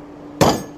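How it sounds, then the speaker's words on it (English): A homemade hammer with a knurled pipe handle is picked up and handled, giving one sharp metallic knock with a brief ringing tail, close and fairly loud against a quiet room. "This is probably hands down to this day my favorite hammer."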